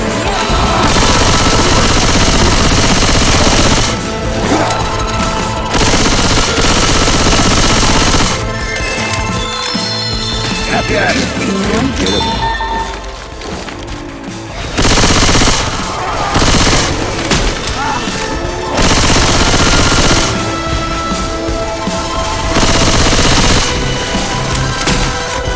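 Sustained heavy gunfire in Left 4 Dead 2 as players unload on the Tank, long loud bursts of rapid automatic shots broken by brief pauses, close and dense throughout.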